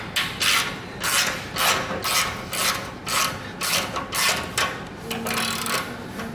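A ratchet loosens an exhaust clamp on a 2017+ Harley-Davidson Touring with a Milwaukee-Eight engine during a Danmoto Highwayman exhaust install. Loud, close ratcheting comes in about ten steady back-and-forth strokes, with no one talking.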